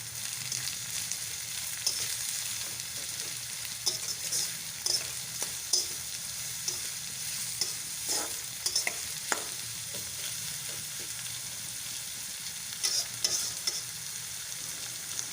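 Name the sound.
onions frying and being stirred in a pan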